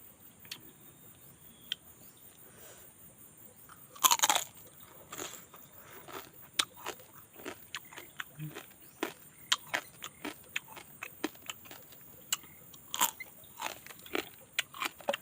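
Someone bites into crispy grilled field crab, making scattered sharp crunches and crackly clicks, mostly faint, with one louder burst of crunching early on. No one talks.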